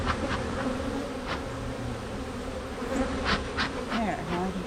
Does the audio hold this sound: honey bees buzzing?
yes